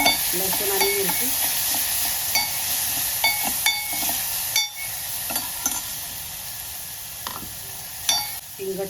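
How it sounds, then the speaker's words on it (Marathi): Green chilies, garlic and curry leaves sautéing in a pan, a bright continuous sizzle with irregular clinks and scrapes of a stirring spoon, close and moderately loud. "मिरची आणि लसूणचं ते टाकायचं. कढीपत्ता टाकायचा. थोडंसं परतून घ्यायचं."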